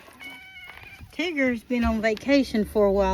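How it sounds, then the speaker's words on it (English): A vocal cat meows repeatedly in long, rising and falling calls during feeding time, close by, mixed with a person talking. "That's my cat that's very vocal."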